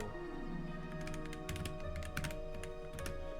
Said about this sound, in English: You may hear me typing because it's right next to the microphone.